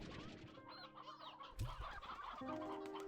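Chickens clucking in the Slime Rancher 2 video game on a chicken farm with pens, a busy cluster of clucks and squawks mixed with game ambience and a thump partway through, no speech.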